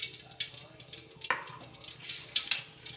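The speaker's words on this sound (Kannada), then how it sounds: "ಆಯಿಲ್ ಹಾಕ್ಕೊಂಡ್ಬಿಟ್ಟು ಅದಕ್ಕೆ ಒಂದು ಎಸಳು ಜಜ್ಜಿರೋಂಥ ಬೆಳ್ಳುಳ್ಳಿನ ಒಗ್ಗರಣೆಗೆ ಸೇರಿಸ್ತಾ ಇದ್ದೀನಿ" Crushed garlic clove dropped into hot oil for tempering, giving a crackling sizzle with a sharp burst partway through, light stirring and a few clinks of utensils against the pan, no voice over it.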